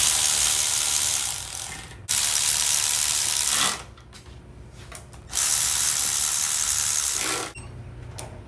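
A ratchet snugs down cylinder head bolts on a 6.2 LS engine fitted with Texas Speed cylinder heads: two long runs of rapid, close clicking separated by short pauses and a few single clicks, with no talk.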